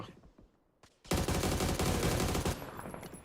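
Gunfire in a video game match: after a couple of isolated shots, a dense, loud burst of rapid automatic fire runs for over a second before cutting off.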